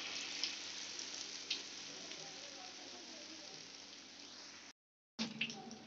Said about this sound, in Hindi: कोफ्ते हमारे फ्राई हो रहे हैं।